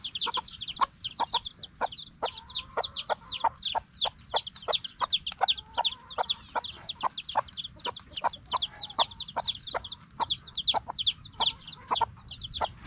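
A brooding hen clucks steadily with quick, repeated short calls, close by over a quiet background hum, continuing without pause.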